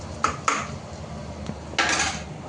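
A spoon clinks against a pan as a ginger, garlic, chili and coriander paste goes into browned onions, giving a few brief metallic taps followed by a soft scraping stir.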